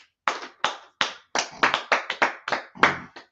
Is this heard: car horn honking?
no